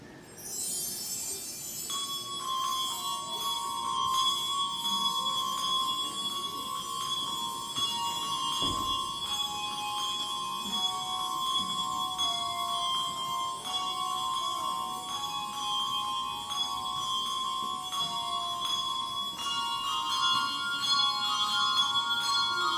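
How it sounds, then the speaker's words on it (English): A handbell choir plays a concert piece with clear, ringing struck bell tones that overlap in sustained chords and melody lines, resonant and continuous, with no talking. "not only do we play handbells, but we have wonderful string players, a dulcimer, we've got suspended bells"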